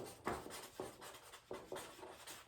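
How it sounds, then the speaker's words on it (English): A marker or pen writes the word family on a board or paper, producing a series of short, soft scratchy strokes with small pauses in between, close and faint. "So I'm just going to write family here."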